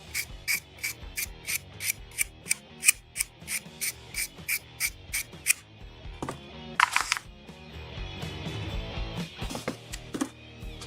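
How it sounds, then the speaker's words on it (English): A hobby knife blade is drawn over a sharpener in about a dozen quick, evenly spaced scraping strokes, then a few clinks and handling noises follow, close and fairly quiet, with no talk. "Used it for everything. The same blade and everything. Hasn't broken yet. Let me just sharpen this a bit."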